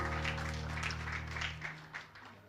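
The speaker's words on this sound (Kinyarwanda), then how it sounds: "nuko mubaha amashyi" Applause and clapping from an audience at a student award ceremony, a steady wash of many hands lasting a couple of seconds over a low background hum, fading slightly toward the end.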